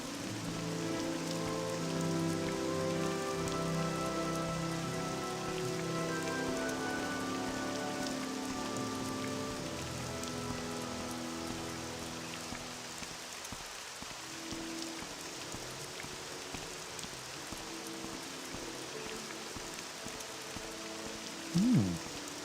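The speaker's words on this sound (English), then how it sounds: "I'll risk the rain to see what it's about." Rain falls steadily in the game Morrowind, a constant wash of patter beneath soft layered ambient tones, with a brief louder swish near the end.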